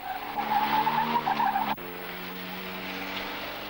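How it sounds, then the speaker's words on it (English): A town car with four-wheel steering turning tight circles almost on the spot, a steady engine drone with squealing tires, cut by a sudden click and then a lower, calmer engine tone. "it's become a town car with four-wheel steering that can almost turn circles on the spot"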